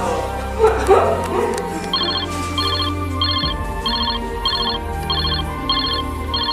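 A phone ringtone sounds in repeated short electronic bursts at a steady rhythm, loud and close, after a brief clatter of handling noise.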